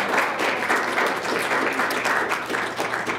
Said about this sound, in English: I think they all deserve an extra round of applause